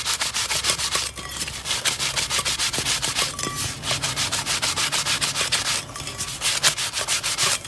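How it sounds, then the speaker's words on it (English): An 80 or 60 grit sanding block from Lowe's rasps back and forth across a wood surface in fast, regular rubbing strokes, close and loud with no talking. "This is just a sanding block from Lowe's, and I'm just going to sand it just so we can get any imperfections out."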